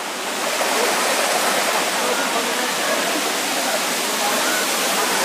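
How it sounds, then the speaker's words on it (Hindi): Devjharan waterfall near Sambalpur roars as a dense, steady rush of falling water, loud and close, a continuous wash of noise with no breaks. "ये है देवझरन वाटरफॉल और अभी हम वाटरफॉल में पहुंच चुके हैं।"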